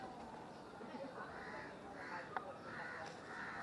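A crow tangled in kite string caws several times in repeated harsh calls over a steady noisy background, with people talking nearby.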